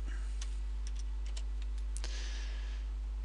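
Sparse clicks of keyboard keys tapping at an irregular pace, close and fairly quiet, over a steady low electrical hum.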